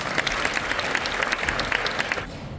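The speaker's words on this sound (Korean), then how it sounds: "일단 다 박수로 환영해 주시면 감사하겠습니다." A crowd at a Christian broadcasting anniversary service claps steadily for a couple of seconds, a dense, even patter of many hands that stops abruptly at the end.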